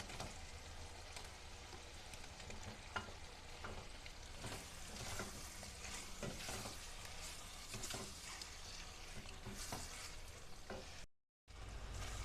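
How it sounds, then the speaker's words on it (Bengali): Fried taro being stir-fried in a cooked spice paste, a close continuous sizzle with repeated stirring scrapes and crackles, steady throughout apart from a brief cut near the end, with no voices. "তোমরা দেখতে পাচ্ছ কচুগুলোকে কষিয়ে নিয়েছি।"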